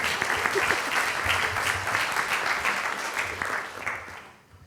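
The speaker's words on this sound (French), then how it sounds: "Vous pouvez l'applaudir." An audience at a Polynesian restaurant-trade awards gathering applauds a gold medalist, with dense, loud clapping held steady before thinning and fading out at the end.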